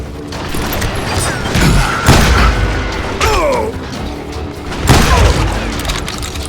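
Heavy shotgun blasts from a Western shooter game, Call of Juarez: Gunslinger, booming out as loud, close reports spaced a second or two apart, with clattering reload mechanics in between.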